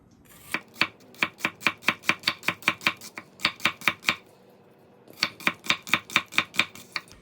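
A sharp kitchen knife chops onions on a board in quick, even runs of crisp close knocks, two bursts split by a short pause, with no talk.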